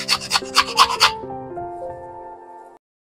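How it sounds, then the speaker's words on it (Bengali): Peeled mangoes rubbed across a grater give four or five quick, close rasping strokes, overlapped and then followed by a short electronic melody. "এবার এইরকম একটা গ্রেটার নিয়ে নিয়েছি, এটার মধ্যে এটা আমগুলো ঘষে নেবো"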